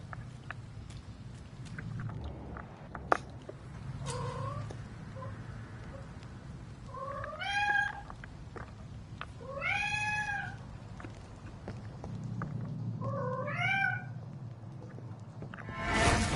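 Cat meowing in the Vampyr video game, several distinct rising-and-falling meows spaced a few seconds apart over a low ambient hum, moderately close, with a sharp click early on.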